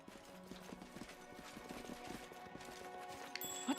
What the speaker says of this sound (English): You cute little horsey.